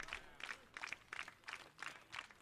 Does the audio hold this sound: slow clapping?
yes